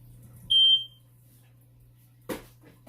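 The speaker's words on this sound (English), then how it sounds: "I'm not sure what the hell's up with the fucking fire alarm that it beeps so much." A household smoke detector that beeps too often, even after a battery change, gives one short, loud, high chirp in a quiet room, followed later by a faint clatter.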